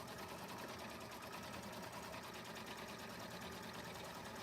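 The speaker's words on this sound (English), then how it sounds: "So now I'm just going to stitch around the outside of this." A machine embroidery sewing machine stitches around the outside of a name badge, its fast even needle rhythm running loud and continuous from start to finish with no voices.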